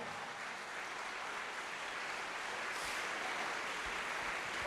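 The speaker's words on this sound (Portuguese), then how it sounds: "Vamos aplaudir ao Senhor." Church congregation applauding during a Portuguese-language sermon, a broad continuous crackle of many hands clapping, steady and somewhat distant, with no speech over it.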